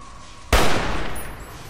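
A single loud gunshot blast in Fallout: New Vegas, sudden and close, followed by a long noisy decay.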